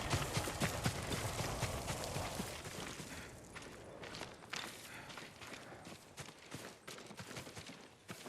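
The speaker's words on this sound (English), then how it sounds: "Yuriko's horse." Horse hooves clip-clop steadily in Ghost of Tsushima amid a dense, noisy in-game soundscape, the hoofbeats loud at first and then thinning to scattered thuds under continuing ambience.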